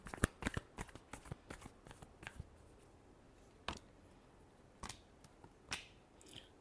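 A tarot deck is shuffled up close in quick, soft riffles and light taps. The sound is quiet and bursty, with a busy cluster of flicks followed by a few sparse clicks.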